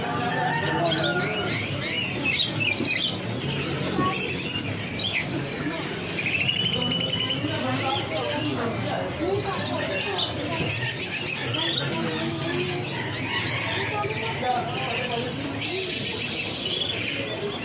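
Caged songbirds trill, chirp and whistle almost nonstop in bright overlapping phrases, with cooing and people talking in the background.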